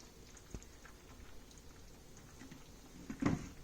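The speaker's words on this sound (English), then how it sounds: "we just simmer it for a minute or 2" Vegetarian stew simmering in a small pot on the stove, with soft scattered bubbling pops and gentle patter, faint, then a brief louder bubble near the end.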